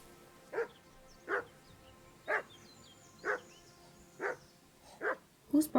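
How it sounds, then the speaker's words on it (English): A dog barks repeatedly in Kingdom Come Deliverance II, seven or so sharp barks at roughly even intervals, moderately loud over a quiet ambient background, with the last two coming closer together. "Is that Mutt or is there another dog here?"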